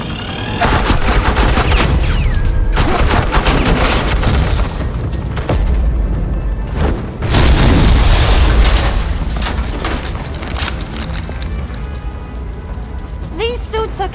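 Gunfire rings out in a Batman Telltale game battle as suppressing fire, with dense, loud bursts and booms repeating over about fourteen seconds and voices speaking in between.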